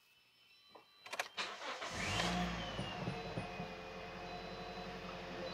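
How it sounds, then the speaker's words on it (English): A Toyota Corolla 1.8 engine cranks with a few rapid starter pulses, then catches and settles into a steady, moderately loud idle, close by in a quiet workshop with no talk. "So we are going to start the vehicle up."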